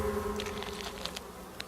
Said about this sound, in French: les abeilles qui volent autour m'empêchent de l'atteindre